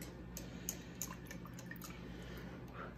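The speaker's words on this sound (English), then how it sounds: "What I'm going to do now is just give it a little stir." Cold brew coffee being stirred in its container: a quiet liquid swirl with a few faint, light clicks and drips over a steady low background hum.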